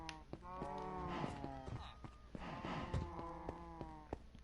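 Cows mooing in the Minecraft video game, several long lowing calls overlapping and repeating throughout, fairly loud with no talk over them.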